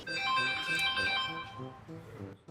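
A mobile phone ringtone plays loudly and continuously as a bright melodic tune of repeating notes, lasting a couple of seconds with no one speaking over it.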